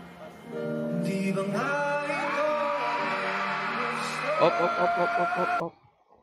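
Concert crowd screaming and cheering loudly over live music, a sustained wall of high-pitched yells that swells and holds before cutting off abruptly near the end.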